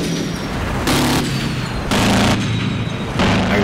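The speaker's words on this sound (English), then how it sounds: "Lots of missiles hitting now." Missiles strike a runway in a war video game, heard as a series of heavy booms at steady intervals, each a loud broadband blast that holds for about half a second over a constant rumbling background.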